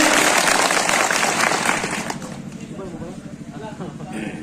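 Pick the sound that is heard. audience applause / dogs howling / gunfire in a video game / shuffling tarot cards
audience applause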